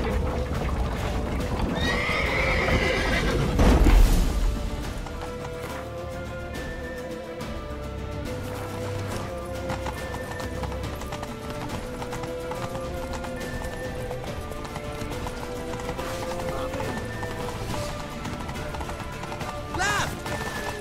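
Horses galloping and neighing in The Witcher 3, a loud whinny early on, then steady clip-clop of hooves under game music and shouting voices, with another neigh near the end.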